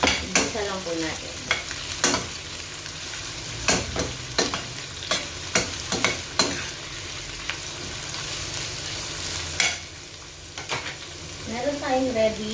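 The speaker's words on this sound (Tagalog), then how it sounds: "Igisa lang po natin." Ingredients for sherry fish sauté in a pan with a steady sizzle, punctuated by repeated sharp clacks of a utensil stirring against the pan; a brief voice is heard near the end.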